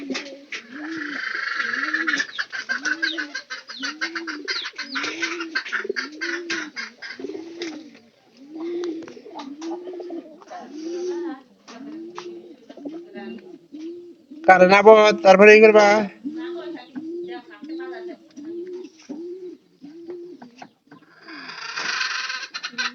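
Domestic pigeon cooing in a repeated rhythmic series close by, with a louder burst of cooing midway and brief talk from a man.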